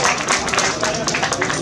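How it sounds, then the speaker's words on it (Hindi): An audience applauds at a press club executive committee oath-taking ceremony, a dense, brisk patter of clapping lasting about a second and a half, with some voices mixed in. "आपकी तालियां चाहिए।"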